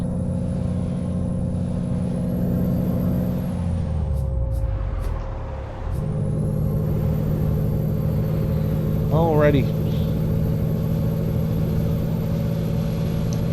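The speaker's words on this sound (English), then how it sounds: "This is the Peterbilt 389 is the truck" A Peterbilt 389 truck idles with a steady low diesel rumble, dipping briefly as the engine note drops, then a sharp hiss of air brakes releasing partway through; someone says a word over it.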